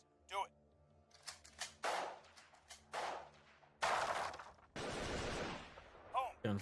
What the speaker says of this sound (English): Gunfire contact.